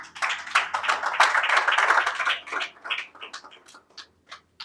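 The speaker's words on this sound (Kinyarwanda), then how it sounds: "Twamukomeye amashyi nyamuneka." Audience applause at a panel event, a dense burst of many hands clapping that thins out into scattered individual claps.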